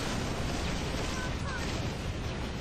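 Continuous loud, dense rumbling barrage of booms and blasts, like sustained field cannon fire and explosions in the video game Halo: Reach, with no pauses.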